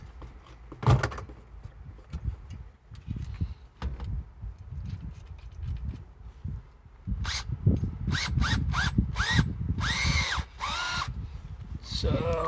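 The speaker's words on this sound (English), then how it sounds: "I'm installing it in my drill here. I got a Makita, and I'm gonna start with a small hole." A Makita power drill bores a small hole during a seat belt installation in a 1955 Chevy pickup, sounding in short whining bursts that grow longer and closer together toward the end, with quiet handling noises between.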